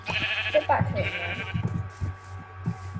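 Minecraft sheep bleats sound over a steady electronic hum, with a few scattered clicks and soft game sounds.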